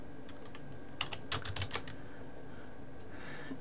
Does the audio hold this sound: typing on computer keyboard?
yes